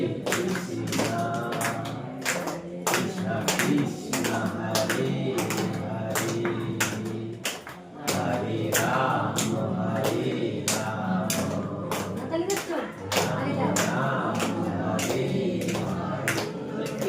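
Audience clapping hands in a steady rhythm while chanting Hare Krishna together at a devotional gathering, continuous sharp claps over sung voices throughout.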